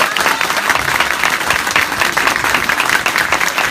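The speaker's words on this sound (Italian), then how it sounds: "gli applausi alla fine" A large crowd at an Italian political campaign rally breaks into loud, sustained applause, dense clapping that fills the whole stretch without pause.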